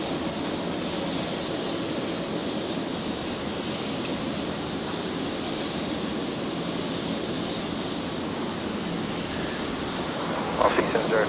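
Jet airliner taking off from Brisbane International Airport and making a quick left-hand turn after departure, a steady, broad engine roar holding loud and constant throughout, with faint talk beneath.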